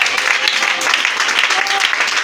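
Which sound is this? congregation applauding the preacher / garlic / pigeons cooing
congregation applauding the preacher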